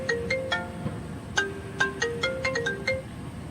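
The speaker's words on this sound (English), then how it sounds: "You can see my phone's going off a little bit." A mobile phone ringtone chirping through a quick melodic series of electronic tones in an irregular pattern, moderately loud over a steady background hiss.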